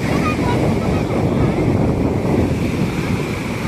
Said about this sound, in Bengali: সমুদ্রের ঢেউ আসছে